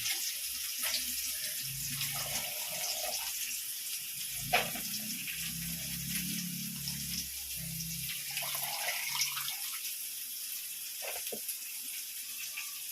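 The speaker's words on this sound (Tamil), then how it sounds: "சிறுகீரை அலசுறேன்." Small spinach leaves being rinsed under a running tap, a steady close wash of water with brief splashes and handling noises, no talking.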